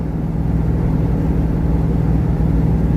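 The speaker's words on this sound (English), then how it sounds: "My truck's loud" A loud truck engine drones steadily from inside the cab while driving, a continuous low rumble with no talk over it.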